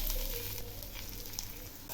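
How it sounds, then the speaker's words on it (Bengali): Raw rice grains and potatoes frying together in a pan with chili powder for a fish pulao make a soft, steady sizzle, fairly quiet and continuous with no one talking. "এখন আমি এই চালগুলো খুব ভালো করে ভেজে নেব।"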